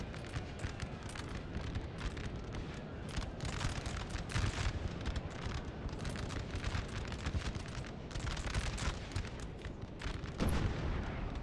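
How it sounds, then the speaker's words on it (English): Artillery fire in a Napoleon Total War battle, dense rumbling blasts and crackling gunfire rolling continuously over a noisy battlefield din, with a louder burst near the end and no talk. "Our general is under attack! Yeah, like the artillery strike nearby."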